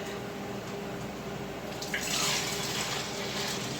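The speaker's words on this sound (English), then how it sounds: "So now we're gonna try to pour this in here" Homemade chickpea milk is poured into a container, a soft liquid rush that rises partway through over a steady low background hum, lasting a couple of seconds.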